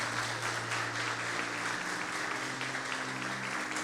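A church congregation applauds in steady, dense clapping that continues unbroken for several seconds, moderately distant and even, with faint sustained tones from instruments or voices underneath.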